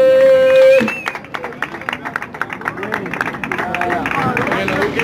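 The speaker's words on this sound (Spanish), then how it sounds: "un fuerte aplauso" A crowd at a Romero vs Dante event in Ibagué applauds a jury member, with scattered claps and cheering rising after a brief tone, under a steady murmur of crowd voices.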